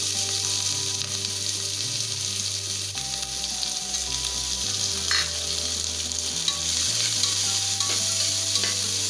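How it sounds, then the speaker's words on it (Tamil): Onions frying in oil give a loud, steady sizzle, with a low background hum running underneath throughout. "வெங்காயத்தை நல்லா வதக்கிடணும்."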